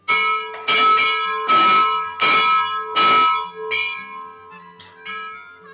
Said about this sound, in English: This is a bell off of a steam locomotive.